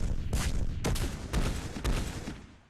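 Missile base fire in a Master of Orion space battle, a series of loud booming blasts with sharp onsets roughly every half second, fading out at the end.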